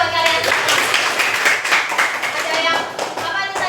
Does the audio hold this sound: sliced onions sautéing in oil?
no